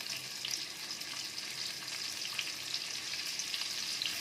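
Chopped onions sizzle in hot oil with bay leaves for a prawn masala, a continuous bright frying hiss with occasional crackles and light stirring, close and steady with no talking.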